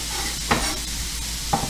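Red and green peppers stir-frying in a hot pan, a steady broadband sizzle with two brief louder stirring clatters, no talking.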